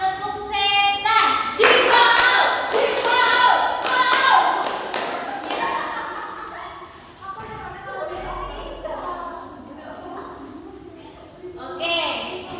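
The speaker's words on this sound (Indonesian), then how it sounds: "Oke, kita ulangi sekali lagi ya. Yang kompak ya. Tepuk setan." A classroom of pupils beats out the 'tepuk setan' clapping rhythm: bursts of sharp, fast claps and table thumps in a lively pattern, mixed with chanting voices, before the claps fade and a teacher talks alone.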